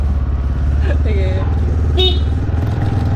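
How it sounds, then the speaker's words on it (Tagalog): A motorcycle on the road runs with a steady low engine drone close by, with a couple of brief horn-like tones over it and a person talking. "inatras ko na nga tong motor tapos alis na nga tayo"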